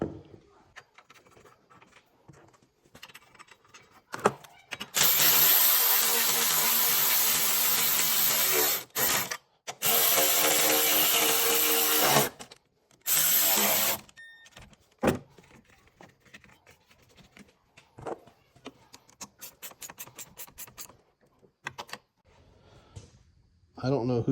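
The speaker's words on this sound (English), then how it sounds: "Now I can tighten everything back down." A gear wrench ratchets as bolts on a reinstalled bracket are tightened, sounding as loud bursts of rapid clicking between quieter handling noises, with stretches of low-level activity before and after.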